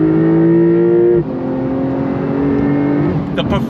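2025 Porsche 911 Carrera S engine pulling hard on throttle in second gear, a loud close rising howl that drops as it shifts, then climbs again steadily, with faint noise near the end.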